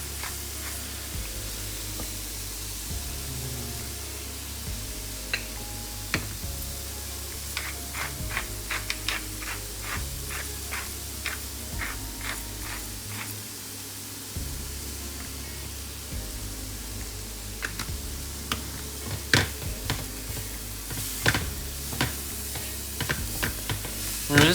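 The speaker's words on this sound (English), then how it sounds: "We're just going to stir this up." A cooking mixture seasoned with thyme, salt and pepper sizzles in a pan for a Beef Wellington, with soft, scattered scraping taps of stirring over a steady hiss and low background hum.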